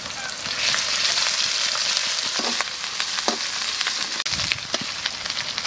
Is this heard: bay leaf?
yes